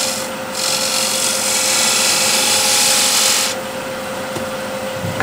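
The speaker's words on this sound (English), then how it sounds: "Spindle gouge." A spindle gouge cuts a wooden bowl spinning on a lathe, giving a steady, bright, hissing scrape with a constant motor hum beneath. The cut rises in intensity mid-way, then eases off.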